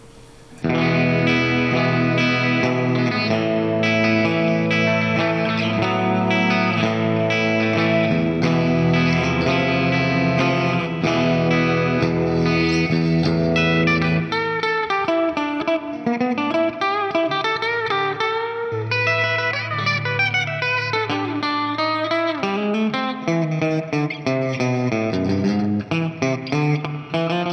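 Distorted electric guitar, a Washburn Lyon, plays loud sustained chords, then shifts to gritty lead lines and bends, heavy overdrive throughout with no talking.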